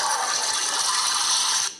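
A toilet flush played back through a phone app: a broad, steady rushing whoosh of water running close and fairly loud for almost two seconds, then cutting off abruptly.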